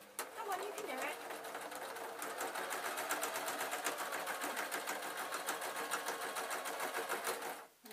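A sewing machine stitches fabric storage boxes, its needle hammering in a fast, steady rhythm close by for several seconds before stopping abruptly near the end.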